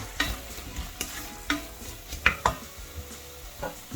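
Beef massaman curry with potatoes being stirred and folded in a pan: wet, close scraping and squelching strokes with spoon clinks against the pan over a soft sizzle, in an irregular rhythm.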